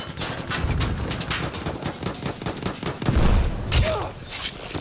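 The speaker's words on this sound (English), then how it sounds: "There's a machine gun." Battlefield 1 machine guns fire in rapid, loud bursts that keep going through the whole stretch, with game voices calling out underneath.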